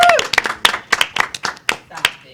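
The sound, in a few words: round of applause for panelist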